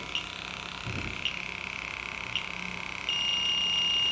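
A Fieldpiece SRL2 refrigerant leak detector in turbo mode gives a steady, high-pitched electronic tone that hums continuously, with faint periodic clicks, and grows slightly louder and fuller near the end.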